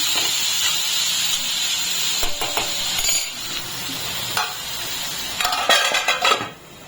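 Mixed vegetables cooking in a covered pan with peanut and garlic paste give a steady, loud hiss and simmer throughout, broken by a few sharp clinks of a lid or utensil.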